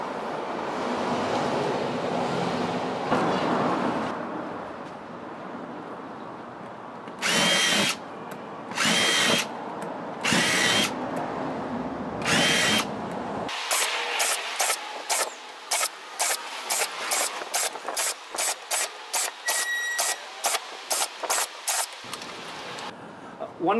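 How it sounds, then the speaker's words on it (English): A power drill bores a ring of holes in a soft plastic pot, sounding in repeated short whirring bursts, first spaced apart and then in a quick regular series, close by with quiet background between. "The next step will be to use a drill to mark out the perimeter of this circle."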